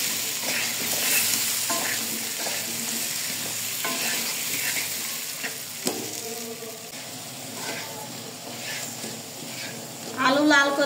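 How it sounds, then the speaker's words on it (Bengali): Potato pieces fry in hot oil for chicken biryani, a steady crackling sizzle with scraping stirs and pan clatter throughout, while a voice talks over the cooking and a louder burst of sizzle flares near the end. "আলু লাল করে ভেজে নিয়েছি"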